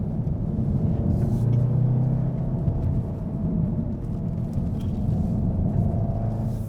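A 2015 Volkswagen Golf R driven through a winding section in race mode, a steady low engine and road rumble inside the cabin with mild swells in engine note.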